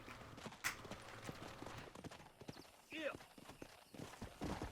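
Horse hooves clip-clop at a quick gallop in Red Dead Redemption, with periodic hoof strikes and a brief whinny, under game dialogue and ambient noise.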